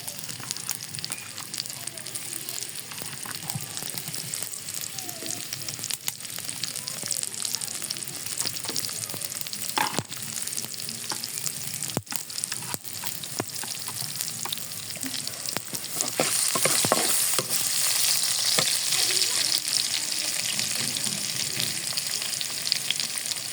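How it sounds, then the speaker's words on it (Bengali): Crushed garlic tempering in about two tablespoons of hot oil for a taki fish mocha fry, giving a steady close sizzle and crackle that swells louder partway through, with some background voice. "এখন আমি এটা বাগার দিব আমি এখানে দুই টেবিল চামিচের মতো তেল দিয়ে দিয়েছি এখন দিয়ে দেবো অর্ধেকটা রসুন থেতো থেতো করে রেখেছিলাম"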